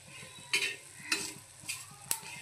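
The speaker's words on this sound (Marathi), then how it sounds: "खसखस आणि तीळ हे फटफट उडतात अंगावर" Sesame and poppy seeds splutter and pop while roasting in a pan as masala for mutton rassa, with sharp crackles bursting every half second over a soft, continuous sizzle.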